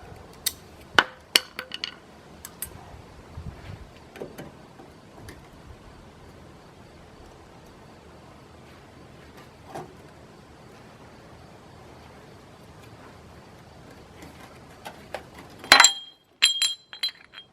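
Old glass clinking and cracking as it is worked out of an International Harvester truck during restoration, scattered sharp taps and clinks with long quiet gaps, then a louder cluster of glassy clinks near the end.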